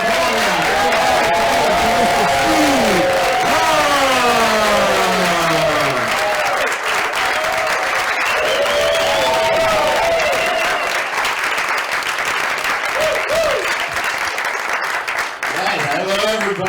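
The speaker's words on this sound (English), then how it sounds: "Start clapping right now. Make some noise." Comedy club audience roars and claps for a stand-up comic's opening set, loud and continuous, with a host's voice shouting over the crowd noise throughout.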